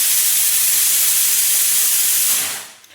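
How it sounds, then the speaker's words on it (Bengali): A pressure cooker lets out a loud, sustained steam whistle while meat boils inside, a close hiss lasting a few seconds before it fades away. "আর যে সিটি পড়ছে প্রেশার কুকারে, এটা হচ্ছে সেটার জন্য মাংস সিদ্ধ হচ্ছে"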